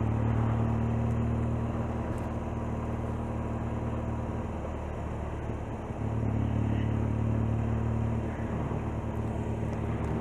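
A motorbike rolls along a town road in Stratford upon Avon, a steady low engine rumble that swells and dips slightly as it passes amid general traffic noise.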